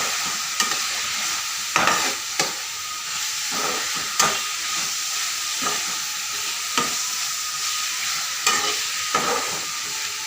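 Mushrooms sauté in a hot pan with chili powder, a steady sizzle and hiss running throughout, broken by repeated scraping stirs at irregular intervals, close and fairly loud.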